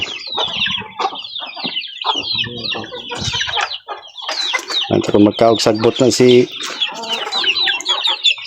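Chickens on a farm cluck repeatedly in an uneven stream, close and fairly loud, with people talking over them throughout.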